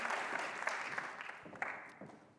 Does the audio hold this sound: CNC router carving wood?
no